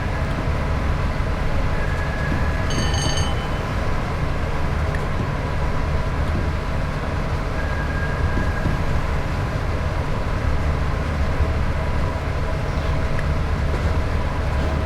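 A tilting passenger train runs steadily on the West Coast Main Line near Shap, a loud continuous rumble of wheels and carriage noise with a brief squeal partway through.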